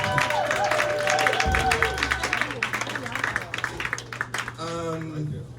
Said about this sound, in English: give the National Poetry Party all of your rounds of applause as well